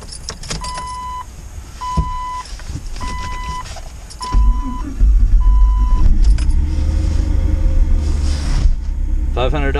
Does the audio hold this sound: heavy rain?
no